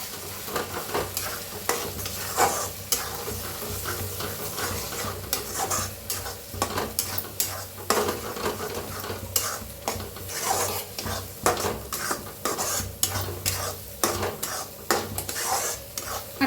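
Beaten eggs fry and are stirred in a pan for fried rice, a steady hiss broken by repeated rapid clinks and scrapes of a metal utensil against the pan, close and continuous.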